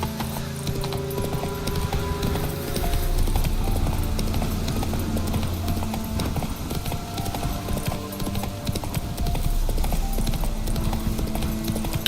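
Roach, a horse in the video game The Witcher 3, gallops with loud, rapid, steady hoofbeats close up, a continuous drumming rhythm over a low ambient hum.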